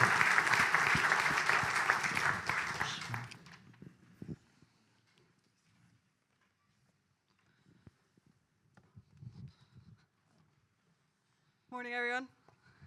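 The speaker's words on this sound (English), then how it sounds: "can you all please give a round of applause to our guest, Panos Prodromides." An audience at an audit committee briefing applauds a guest speaker with a full round of clapping that fades out after a few seconds, followed by quiet room noise, faint shuffling and a brief chiming tone.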